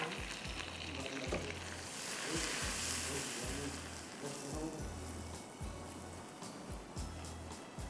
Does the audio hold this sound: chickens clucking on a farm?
no